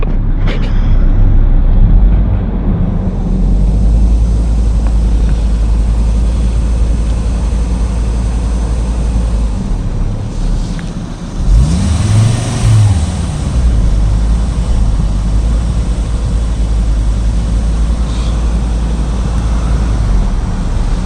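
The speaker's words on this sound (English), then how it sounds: "So these fluctuate revs a little bit, I'll show you." A Volvo V70 XC70 car engine idles loudly nearby, and midway it briefly swells and dips as the idle wavers, then settles back to a steady rumble.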